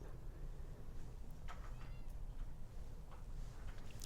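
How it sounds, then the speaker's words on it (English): A short-haired brown tabby cat gives a few faint meows against a steady background hum, brief calls spaced across the moment. "a beautiful cat. He's short-haired, brown tabby"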